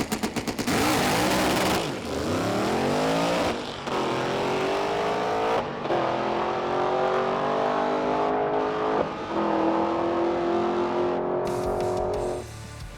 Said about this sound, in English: I'd like to make one more pass, at least down the drag strip